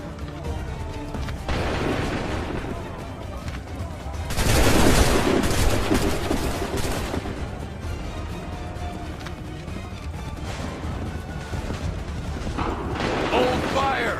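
Gunfire in Assassin's Creed III as soldiers open fire on command: dense volleys of musket shots burst loudly around the middle, with scattered further shots and shouted voices over continuous battle noise.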